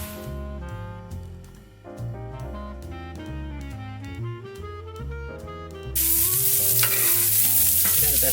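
Bacon fries in a pan with a steady, crackling sizzle under tuneful background music, the frying growing louder and more hissing over the last couple of seconds.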